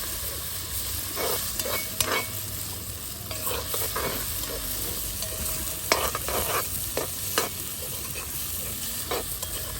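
Curry seasoning frying in a pan at a campsite, a continuous sizzle broken by repeated scraping stirs at an uneven rhythm, close and moderately loud.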